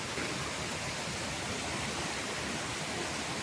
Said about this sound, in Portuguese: como está a Cachoeira do Otonico neste momento